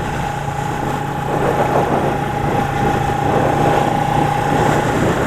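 Motorcycle engine running while riding on a road in New Jersey, a steady, loud drone with a constant whine, rising slightly in the second half, close up with no talking.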